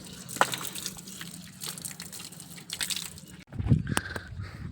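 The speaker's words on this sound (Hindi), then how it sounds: "तो सबसे पहले हम अपने जो पैर है वो धो लेते हैं, क्योंकि मिट्टी लग गई थी थोड़ी सी" Water is poured and splashed to wash muddy feet outdoors at a village dera. It gives a continuous gushing, splattering sound at close range, with a brief break before more splashing resumes near the end.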